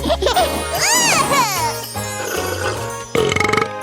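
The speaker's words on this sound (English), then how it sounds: "Haha, fruity bubble burp." A cartoon burp after drinking a rainbow fruit juice, a short bubbly gurgle with rising and falling pitch over a bright jingle, then a brief closing tinkle.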